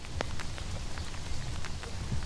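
Rain falls steadily on a farm in Perthshire, a dense close hiss with scattered individual drops pattering and splashing throughout.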